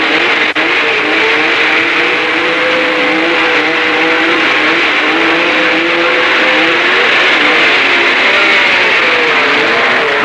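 1960s race cars start lap 1 on a 1.7-mile airfield circuit, their engines droning loudly and steadily throughout with rising and falling revving tones as they pull away.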